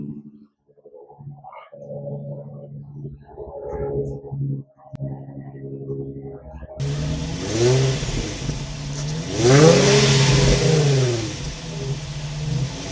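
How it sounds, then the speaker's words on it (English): Close to the stock exhaust of a Nissan 350Z, the engine idles unevenly, then is revved several times in rising and falling sweeps, growing louder and harsher in the second half. "close up on the exhaust."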